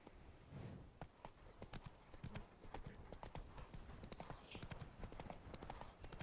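Roach the horse in The Witcher 3 clip-clops along with a steady, rhythmic run of hoofbeats on a hard surface, close and continuous, with faint game ambience beneath.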